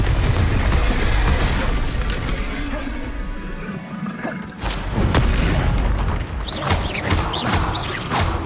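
Confringo fire-blast spells in Hogwarts Legacy, deep booming explosions with crackling debris, loud and near, followed by a second cluster of smaller cracking bursts.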